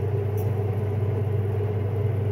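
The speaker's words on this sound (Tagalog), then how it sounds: "nakalimutan kong buksan yung exhaust" A kitchen exhaust fan runs while noodles cook, giving a loud, steady low hum that holds unchanged from start to finish.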